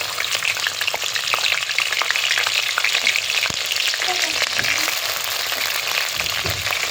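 Eggplant, potato and green chili frying in hot oil with black cumin, a loud continuous close sizzle with occasional spatters and light stirring, no voices.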